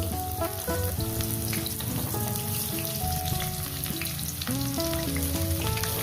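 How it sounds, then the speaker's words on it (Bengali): Onions sizzle steadily in hot oil for a Bengali fish curry, a close, continuous frying crackle with small stirring clinks throughout, and no voices. "সব মাছগুলো ভেজে নিচ্ছি এবার আমি তেলে দিয়ে দেবো পেঁয়াজগুলো"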